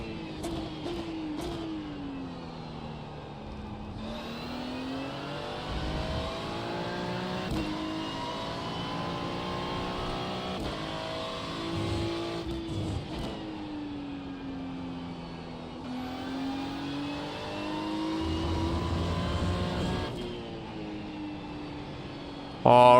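A Ferrari race car in the iRacing simulator, a DTM race, revs loud and close through repeated upshifts and downshifts, its engine pitch rising and falling continuously.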